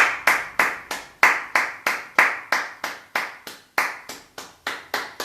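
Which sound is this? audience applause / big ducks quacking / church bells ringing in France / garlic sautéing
audience applause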